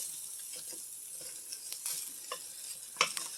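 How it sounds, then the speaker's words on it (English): Potatoes, onions and kielbasa stirred in a Dutch oven over moderate heat, giving soft scraping stirs and a faint hiss, with a few sharper clinks near the end; quiet and close, no talking. "I'm going to go ahead and stir immediately."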